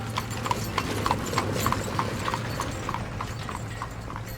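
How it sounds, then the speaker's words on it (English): Horse hooves beat a steady clip-clop at a gallop, regular strikes about twice a second over a low steady hum, fairly close and moderately loud with no voices. "the king put Alyssa on his horse and galloped away to his lovely"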